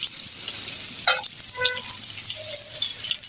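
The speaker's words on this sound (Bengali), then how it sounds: "এখন আমি মাছগুলো পুরোপুরিভাবে ভেজে নিব" Pangas fish frying in a pan, a steady hiss and sizzle of hot oil running throughout, with a few faint clinks and brief tonal squeaks over it.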